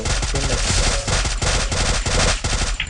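Rapid, loud automatic gunfire in the Free Fire video game, with dense overlapping bursts of shots rattling continuously without a break.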